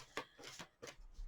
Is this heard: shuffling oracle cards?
yes